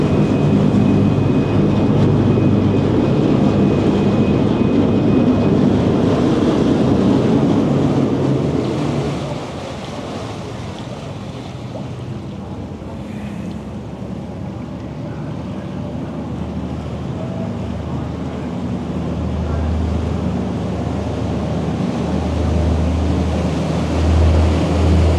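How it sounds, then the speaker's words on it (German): Out on Hamburg harbor water, a ferry pulls away with a deep steady engine rumble, wash and wind. The noise is loud at first, eases midway, then builds again as the vessel churns on. "So, da düst die Fähre weg."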